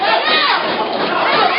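Loud, sustained cheering and shouting from a wrestling audience at a live match, a dense unbroken roar of many voices close and full.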